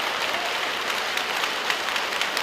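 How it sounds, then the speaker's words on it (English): Basketball arena crowd in Ho Chi Minh applauding an injured player as he is helped to the bench, steady clapping spread across the stands, no talk. "the crowd here in Ho Chi Minh respecting the efforts of Kentrell Barkley, giving him the applause as he's helped to the bench"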